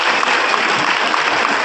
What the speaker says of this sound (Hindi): एक बार जोरदार तालियां बजाकर उनका अभिनंदन करें